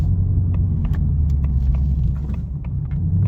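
Cabin sound from a 2024 Mustang GT fitted with a Stainless Works Legend active exhaust in sport mode while driving: a low, steady exhaust rumble with faint rattles and clicks above it.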